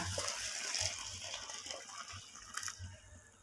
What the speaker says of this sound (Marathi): आता आपण हे पाणी हे आपल्या ह्या शाबूमध्ये घालून घेऊया